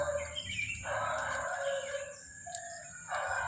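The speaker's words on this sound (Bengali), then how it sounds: "পাখির এই কুজন কী যে একটা মধুময় ধ্বনির সৃষ্টি করে" Birds in a garden call and chirp, with sustained tonal calls and brief high chirps rising over a steady low background hum, moderately faint.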